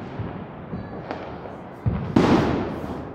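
A few Diwali firecracker bursts go off, one sharp and loud near the end after smaller pops and thumps, set against a noisy outdoor background.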